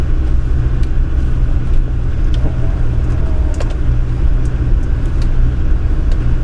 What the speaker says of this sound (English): You can feel that the vehicle's tackling the rocks nice and gently.